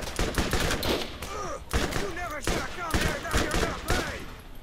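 Rapid gunfire from an SMG in the video game Borderlands crackles in dense, continuous bursts with hardly a pause, loud and close, over a game soundtrack.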